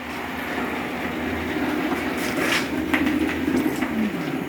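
An 00 gauge model railway locomotive pulling a wagon runs steadily around a layout, giving a continuous close motor whir with light rhythmic track clatter and a faint rising squeal near the end.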